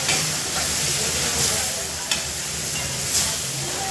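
Onions, tomatoes, chili powder, turmeric and salt frying in a pan for egg bhurji, a steady loud sizzle with a few brief stirring scrapes.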